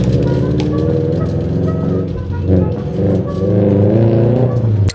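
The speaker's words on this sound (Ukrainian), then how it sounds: "Вон газують" A car engine revs loudly, rising and falling in pitch, with a deep steady rumble throughout.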